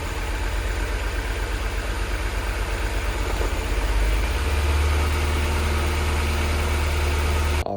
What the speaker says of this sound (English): The car did start, had a bit of a high idle.